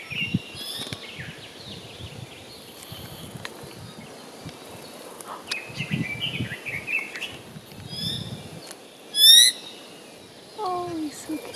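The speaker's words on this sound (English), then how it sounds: "A really rare endemic bird to Hawaii." A rare endemic Hawaiian forest bird calls from the canopy at Haleakala, giving faint scattered chirps and a couple of brief, louder whistled notes near the end over quiet background rustle.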